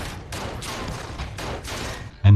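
A rapid burst of gunfire in a movie shootout, several loud close shots in quick succession, ending with a sharp heavy impact.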